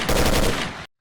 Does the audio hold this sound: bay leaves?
no